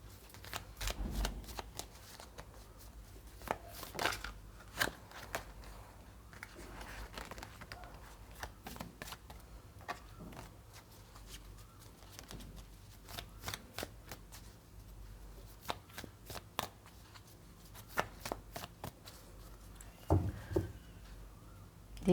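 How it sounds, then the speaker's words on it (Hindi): Tarot cards being shuffled and drawn for a reading, a steady run of close, crisp riffles and flicks with occasional louder slaps and pauses, quiet and alone with no talking. "सबसे पहले हम 3 कार्ड्स निकालेंगे, उसके बाद we will continue with the reading."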